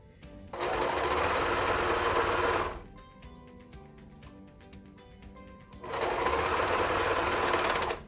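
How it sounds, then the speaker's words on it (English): A serger runs fast and steady, stitching elastic onto swimsuit fabric in two loud bursts of about two seconds each, separated by a quieter pause with faint handling sounds. "we're just going to serge about an inch over what we already did"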